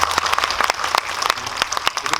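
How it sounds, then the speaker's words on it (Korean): A cinema audience at a Q&A screening at Megabox COEX applauds a film director's answer, with dense, close clapping from many hands for about two seconds. "답변마다 이렇게 박수가 나는 것 같은데"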